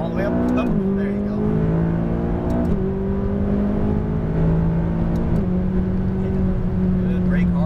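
Turbocharged McLaren 570S accelerating hard on a race track, a loud, steady engine note rising through the gears with brief dips at shifts, continuous and close throughout.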